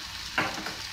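Onions frying in a pan for sambar give a steady, soft sizzle, with one brief louder stir or scrape near the middle of the short stretch. No one speaks.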